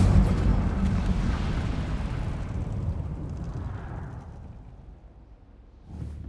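A loud fiery blast of the Incendio fire spell in Hogwarts Legacy, a sustained roaring burst that trails off over several seconds before a smaller flare near the end.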